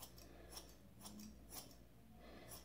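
Very sharp scissors cut straight into long hair at home, giving four or five quiet, crisp snips spaced about half a second apart, with no talking.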